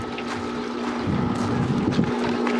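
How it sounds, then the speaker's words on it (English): An Intex manual pool vacuum's pump runs with a steady, loud, close motor hum and a whooshing rush that swells slightly partway through, with no talk. "Turn off the pump."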